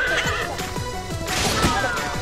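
Horse neighing in the Miitopia video game: a loud whinny runs across the whole two seconds, with rising and falling cries over a steady layer of game music and effects.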